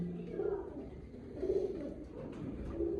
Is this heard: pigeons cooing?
yes